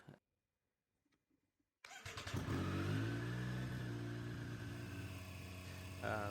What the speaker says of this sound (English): Then next step is turn the bike on again